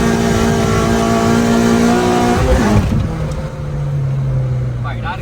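A car with a K24 engine revs hard and pulls up through its gears, the engine note climbing loud and close before a gear change drops it into a lower, steadier drone.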